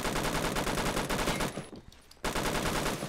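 G3 battle rifle in the Roblox game Phantom Forces fires loud rapid bursts, a steady stream of shots that stops briefly for about a second, then resumes at the same pace.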